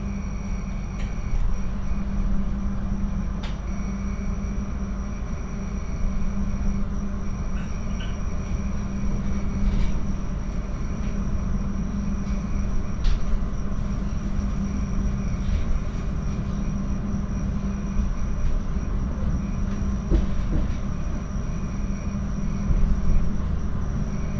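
The Sawunggalih passenger train between Purwokerto and Kutoarjo rolls steadily along the rails, heard from inside as a continuous rumbling drone with faint clicks and rattles throughout, no voices.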